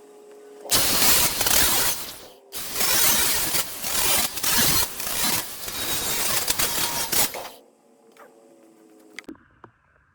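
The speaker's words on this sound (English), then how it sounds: "Gonna go ahead and hit those with a grinder and a flap disc." An angle grinder fitted with a flap disc smooths the rough edges of freshly cut holes in metal, giving loud, close, harsh bursts of grinding in three passes with short pauses, then stopping into quiet shop noise.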